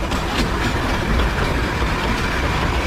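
The small coal-fired Darjeeling steam toy train rumbles and clatters along nearby, a steady rolling noise with no pauses and no voices.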